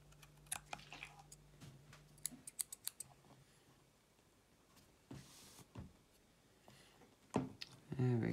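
Vape coil leads trimmed on a 24mm RDA deck, a few sharp, close snips spread across quiet moments with small handling clicks and taps, ending with louder rustling.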